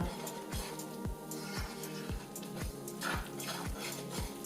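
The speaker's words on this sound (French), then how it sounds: "alors on mélange tous ces ingrédients humides" Wet cake batter with honey being beaten in a bowl for a chocolate-orange cake, a steady rhythm of repeated scraping strokes about twice a second, close and moderately loud with no talking.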